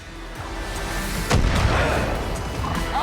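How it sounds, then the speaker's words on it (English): Mortar fire in the shooter game Far Cry New Dawn: a single heavy boom lands midway through, over a steady rumbling battle din with other distant impacts. "They've got a mortar."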